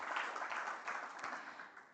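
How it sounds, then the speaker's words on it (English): Conference audience applauding the Commission staff, a steady broadband patter of many clapping hands, moderately distant, that stays even and tapers slightly at the end. "They deserve a round of applause"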